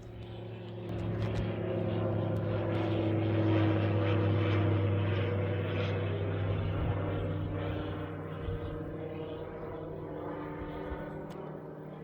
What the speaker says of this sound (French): il y a des petits avions bien sympathiques là.